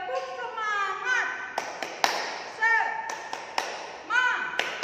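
Children in an online Sunday school session do a rhythmic spirit clap, sharp hand claps landing in a steady pattern between a leader's chanting and talking voice.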